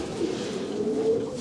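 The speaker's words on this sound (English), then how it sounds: "You're lucky to have such nice pigeons" A racing pigeon in a loft gives a close, steady low coo, one continuous throaty murmur with no talk over it.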